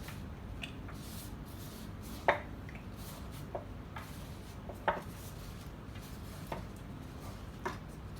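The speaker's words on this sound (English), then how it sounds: "we're gonna chop them, help them out a little bit by chopping them right there a little bit." Knife chopping fresh salsa ingredient stems on a cutting board, a few sharp, sparse taps spread out over a steady low background hum.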